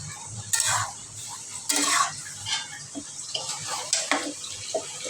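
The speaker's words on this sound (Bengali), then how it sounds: "এই তো এখন আমি এটা মিশিয়ে ঢেকে রাখবো" Metal spoon scraping and clinking in a pot as bottle gourd greens with their stalks are stirred and mixed while cooking with little oil, in several uneven bursts over a low steady background.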